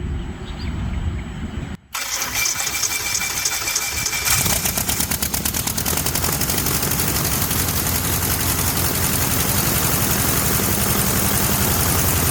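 A light aircraft piston engine with a newly installed propeller and electronic ignition, run for the first time in four months, cranks and catches, then settles into a loud, steady idle with a rapid pulsing beat that continues to the end.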